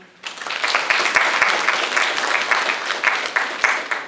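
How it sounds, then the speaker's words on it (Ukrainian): Audience applause welcoming the youngest pupil at a school event, a dense, steady wash of many hands clapping that starts abruptly and carries on loudly throughout. "зустрічайте наймолодшу ученицю нашої школи оплесками"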